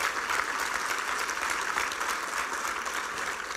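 Sustained applause from a church congregation during a sermon, steady and dense throughout, filling the space with continuous clapping.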